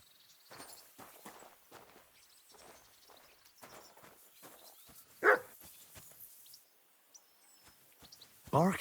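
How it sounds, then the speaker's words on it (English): A dog in Kingdom Come Deliverance 2 barks a few times, short sharp yelps at moderate distance over a quiet game soundscape with footsteps and a soft background voice. "Barking."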